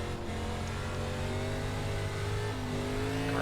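An ARCA race car engine at Knoxville in the iRacing sim drones loudly, rising and falling in pitch as the throttle is worked, with other cars audible around it.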